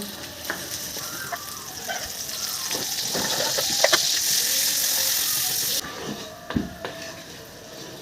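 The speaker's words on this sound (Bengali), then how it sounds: "গ্যাস জ্বালিয়ে কড়া গরম হতে দেব আর এই কড়াতে আমি বাটার ছেড়ে দেব" Butter sizzles in a hot wok heated over a gas flame while a Bengali shukto is being made. A steady close frying hiss runs throughout, broken by a few stirring clinks and scrapes.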